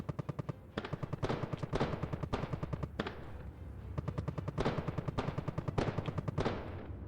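Gunfire in the starship game Conflict Euro: repeated rapid bursts of automatic fire, each a tight rattling volley separated by short pauses, loud and close with no talk over it.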